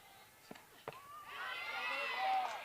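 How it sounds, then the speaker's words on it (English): A softball crowd in the stands calls out and cheers encouragement, a few claps or shouts, then swelling voices that build toward the end at moderate distance. "Getting some encouragement from the crowd as well as her own bullpen."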